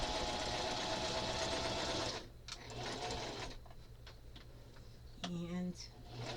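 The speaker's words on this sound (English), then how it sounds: "And we're stitching and sewing" A sewing machine stitches steadily and loudly for about two seconds, then stops; quieter mechanical ticks and handling follow, with a brief higher whirring burst near the end.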